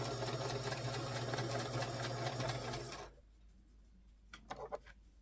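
A sewing machine stitches quilt pieces in a steady, fast whirring run for about three seconds, then stops, leaving quiet room tone with a few small clicks and handling sounds.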